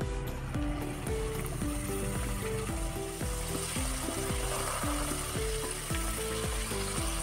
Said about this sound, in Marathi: आपलं तेल तापलेलं आहे, आता आपण शंकरपाळ्या तळून घेऊ।